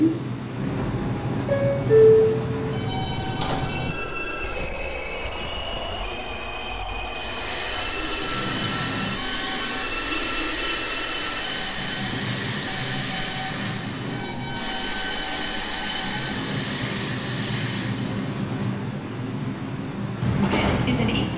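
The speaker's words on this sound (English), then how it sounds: "This is an East Chester, Dyer Avenue bound, 5 local train." A New York subway 5 local train bound for Eastchester–Dyer Avenue pulls out of a station, rumbling, with loud sustained high-pitched wheel squeal, door and platform noise, and faint background chatter.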